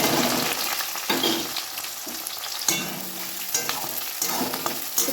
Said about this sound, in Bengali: তো চলো এবার পেঁয়াজ কুটিটা দিয়ে নিই।